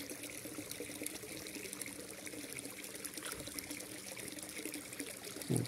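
Pump-driven water circulates in a fish-farming tank, giving a continuous gentle trickle and bubbling wash that stays even throughout, ending with a brief louder splash.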